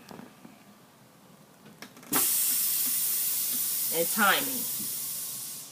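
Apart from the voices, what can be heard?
air hissing from truck brake system during pre-trip test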